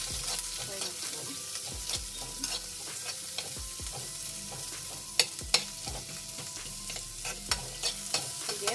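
Onion, ginger and garlic frying in a pan for a protein sambar served with ragi mudde, a faint steady sizzle broken by repeated spoon scrapes and taps against the pan, growing sharper toward the end, no talking.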